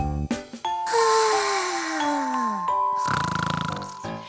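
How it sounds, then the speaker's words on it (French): A cartoon snore from Goldilocks in a children's story, a sliding, descending snore tone amid twinkling chime effects, followed by a rapid fluttering exhale, close and clear with no talking. "Pendant que Boucle d'Or ronflait"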